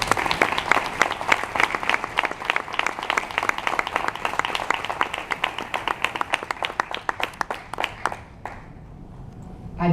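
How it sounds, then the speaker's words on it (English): An audience breaks into a sustained round of applause honouring a woman at an event, dense and loud clapping for about eight seconds before it fades out. "please join me in giving a big, resounding round of applause to a woman"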